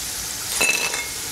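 Crispy fried chilli potatoes are tipped onto a plate, giving a brief cluster of light clinks and dry rattles against a soft background hiss.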